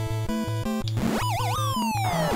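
Chiptune music and jingles from the Punch-Out boxing video game, with a bouncy bass pattern under bright rising and warbling tone sweeps as stars are earned, loud and continuous with no talking.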